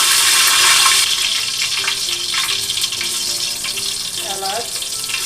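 Two bay leaves sizzle and crackle in a pan of homemade ghee for a restaurant-style biryani, a loud hiss at first that settles into steady close frying with faint background tones.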